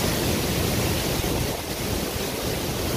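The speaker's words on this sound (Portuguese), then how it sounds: "Mais uma cachoeira que nós filma aqui no Faxinal, sentido Faxinalzinho." Broad, constant roar of water from a waterfall at Faxinal on the way to Faxinalzinho, a steady rushing wash with faint wind buffeting on the microphone.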